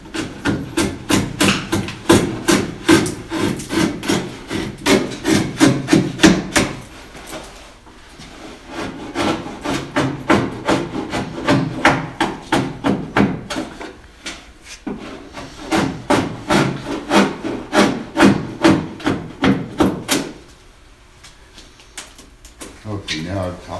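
A chisel cuts along the centreline of a wooden canoe stem, with rhythmic scraping strokes in quick bursts separated by short pauses and a voice talking in the background.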